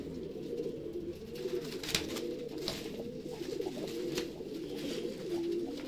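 Several Madrasi pigeons coo continuously in a loft, overlapping soft throaty rolling calls at close range, steady throughout with faint background noise and no talk.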